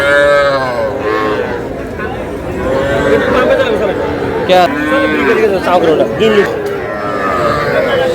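Loud heifer calf moos repeat over a crowd's chatter at a cattle market, several long lowing calls close by amid talking people.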